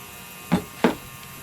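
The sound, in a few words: spraying cleaning lubricant on AR-15 bolt carrier group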